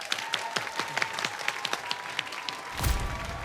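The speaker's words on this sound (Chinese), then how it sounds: "来，掌声欢迎" Live audience at a stand-up comedy competition show bursts into applause to welcome a comedian onstage, a dense wash of clapping lasting a few seconds, with a louder swell near the end.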